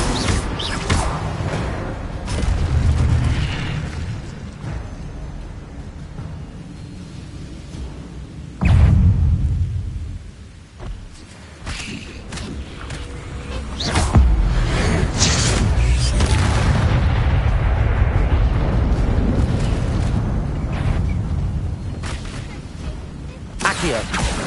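Repeated fiery blasts of the Incendio spell in a Harry Potter video game, heavy booming bursts recurring over several seconds amid continuous rumbling game noise.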